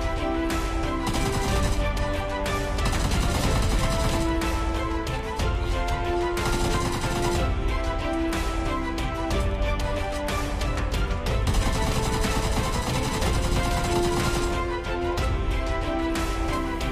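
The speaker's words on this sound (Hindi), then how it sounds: "तो चलिए इस बार इसे गन से मारने का ट्राई करते हैं" Rapid, sustained gunfire in the mobile shooter PUBG/BGMI as a player guns down a zombie: dense bursts run loud and nearly unbroken, layered over steady game music.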